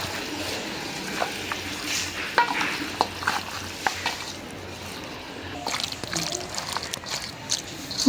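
Meat being mixed by hand with spices in a pot for a home-cooked curry, giving a steady wet squishing and stirring texture with faint clicks throughout, close and moderately loud.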